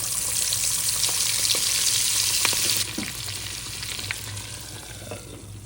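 Quail pieces fry in hot oil in a pan with a loud, dense sizzle that drops to a softer, steady crackle halfway through, with no voices.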